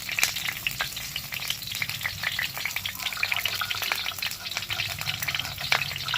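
Ginger, garlic and green chilli frying together in a pan, a dense crackling sizzle with rapid spattering pops and some stirring, close and constant throughout, no speech.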